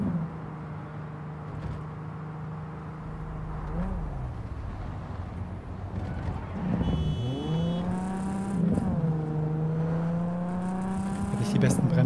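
A car in the video game Cyberpunk 2077 Phantom Liberty drives along with a humming engine tone that rises and falls as it revs and shifts. Someone talks in German over the engine.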